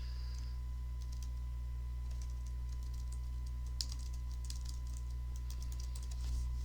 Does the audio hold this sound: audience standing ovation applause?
no